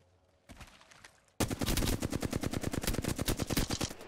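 Automatic weapon fire in the video game Apex Legends. A short burst is followed by a long run of rapid, evenly spaced shots, loud and close, with no talking.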